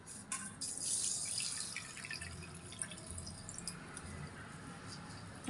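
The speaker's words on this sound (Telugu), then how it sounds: "ఇందులో కొంచెం నీళ్ళు పోసి పక్కన పెట్టుకుందాం" Water poured into a bowl of thin sago pearls for payasam, a soft close trickle and dripping in a quiet kitchen.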